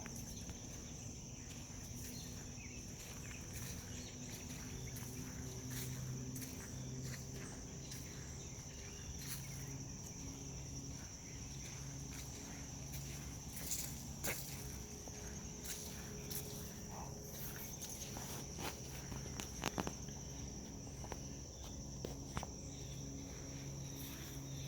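Footsteps crunch softly along an outdoor nature path with a little sand on it, faint and irregular beneath a constant high chirring of crickets, with scattered small clicks and no voices.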